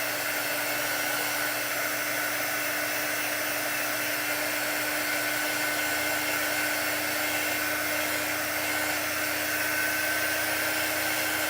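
A hair dryer blows steadily to dry a chalk paint transfer on a waxed surface, a constant loud whirring hum with a high whine running unbroken throughout.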